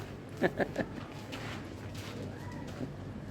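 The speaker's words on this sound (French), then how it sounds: "Oh, beautiful birds." Birds calling in a side street in Luxor, Egypt, three quick chirps close together, then quieter calls over steady street noise.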